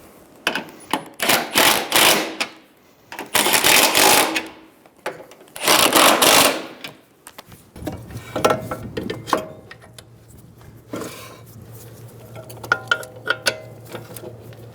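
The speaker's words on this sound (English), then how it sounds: "Snug the nuts down using a 15mm socket." Nuts on a front strut mount of a 2007-2011 Toyota Camry tightened with a 15mm socket: three loud, buzzing mechanical bursts, then softer clattering and a low steady hum.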